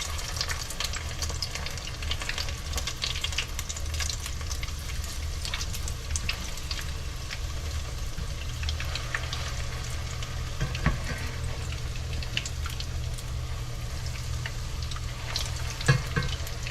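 Potato pancake frying in a pan, a constant crackling sizzle with scattered pops and light spatula scrapes, steady and close throughout with no talk.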